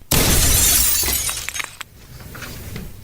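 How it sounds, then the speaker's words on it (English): Glass panel in a front door shatters from a shotgun blast: a sudden loud crash opens the sound, then breaking glass clatters and tinkles for a few seconds, with scattered fragments settling and fading toward the end. "The man drew down on Lester and shot him through a panel of glass in the front door."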